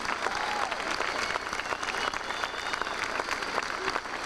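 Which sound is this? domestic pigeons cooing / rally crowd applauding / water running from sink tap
rally crowd applauding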